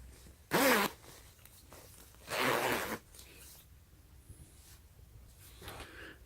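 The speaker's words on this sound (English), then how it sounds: "And this is where your half zip is zip up." Half zip on a windbreaker jacket being zipped, two close, loud raspy zipper pulls, one short and one longer, with quiet handling rustle between.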